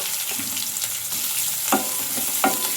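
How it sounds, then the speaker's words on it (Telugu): Chopped onions fry in a pan with lentils, giving a steady low sizzle broken by a few soft stirring scrapes, close and moderately quiet with no voices. "మనకు ఈ ఉల్లిపాయ ముక్కలు కాస్త గోల్డెన్ కలర్ చేంజ్ అయ్యే వరకు అయితే ఫ్రై చేసుకోవాలి."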